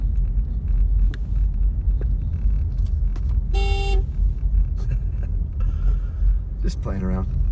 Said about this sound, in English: Just playing around, just honking at them to say hello.